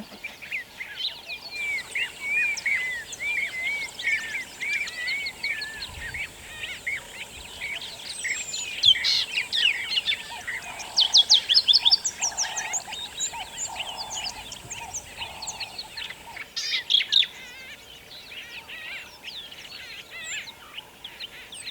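Birdsong in Kruger National Park, South Africa, attributed to an African cuckoo: a dense chorus of chirps and trills that runs steadily through the whole stretch, with fuller bursts in the middle and no talking.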